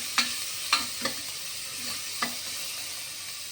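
Onion sautéed with a pinch of salt in a pan gives a soft, quiet sizzle, punctuated by a few distinct scrapes and taps of a spatula stirring at an uneven pace.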